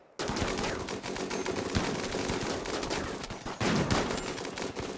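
Gunfire in RimWorld as colonists shoot an enemy raider, a dense rapid rattle of shots that runs continuously with a brief gap before a louder burst near the end.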